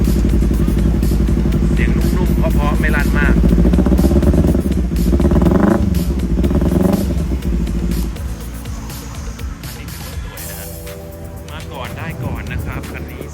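A 2015 Kawasaki Ninja 300 motorcycle fires up on the first try and settles into a steady, loud idle with a dense engine drone throughout, some clattering and a slight change in tone partway through.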